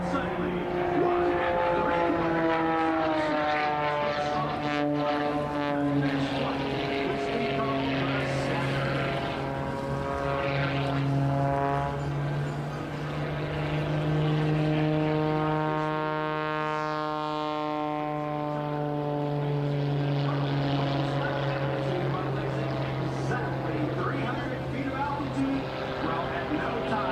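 Sean D Tucker's aerobatic propeller plane performs at an air show over San Francisco Bay, its engine droning steadily and loud with a rising and falling pitch as it swoops. A commentator talks throughout.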